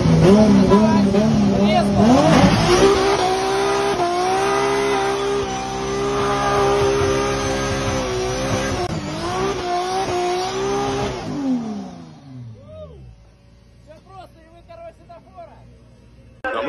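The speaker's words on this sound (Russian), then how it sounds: "Бернаут – это такая фишка, когда машина стоит на месте, а задние колеса у нее вращаются." Toyota GT86 rear-wheel-drive engine revving hard during a burnout, a loud sustained high-rpm roar with rising and falling pitch for about twelve seconds, then dropping away into quieter idle and background noise.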